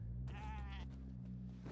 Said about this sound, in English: we're aggroing the goats at a distance.